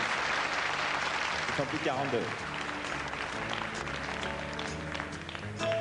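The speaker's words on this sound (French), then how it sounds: "Applaudissements par les supporters." Supporters and contestants applaud Miss Franche-Comté at a Miss France pageant, a continuous crowd clapping under a presenter's voice and background music.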